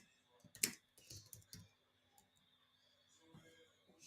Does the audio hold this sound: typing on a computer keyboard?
yes